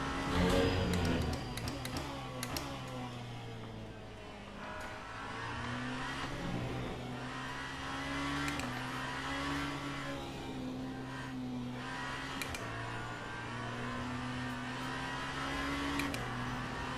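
Steady droning roar of the Genesis hypercar's engine on a push lap in Le Mans Ultimate, its pitch climbing and dropping through gear changes over about seventeen seconds with no talk.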